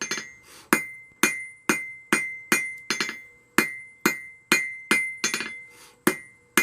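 Ringing hammer blows forging hot steel for tool hangers, struck close and loud in a steady rhythm of roughly two per second, each hit leaving a bright clinking ring.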